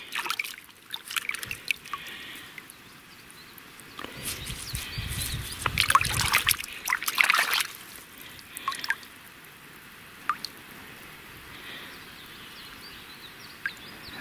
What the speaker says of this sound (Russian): Он что, поливает дождик.